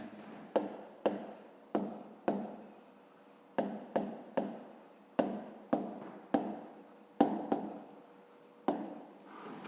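Handwriting on a fifth-grade maths exercise, close and crisp: short scratchy strokes in quick bursts with brief pauses, a steady uneven rhythm for about ten seconds, no voices.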